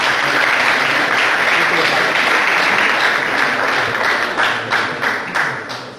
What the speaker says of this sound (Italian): Un applauso a Roberto.